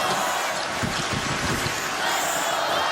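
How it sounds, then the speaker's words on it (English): Crowd noise in an ice hockey arena at a UConn vs. Notre Dame college men's game, a steady broad roar swelling slightly as spectators come to life, filling the whole stretch. "Crowd coming to life."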